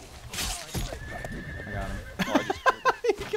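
A horse in the War of the Roses video game gives a long whinny as hooves clop nearby, with loud, excited voices cutting in over the action.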